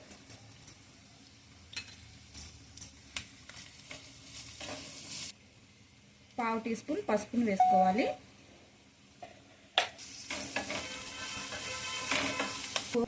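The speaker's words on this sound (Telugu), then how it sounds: "పోపు అంతా వేగిందండి" Tempering spices with grated carrot crackle and sizzle in a pan for leftover-idli upma as a utensil stirs and clinks against it; a person talks briefly partway through.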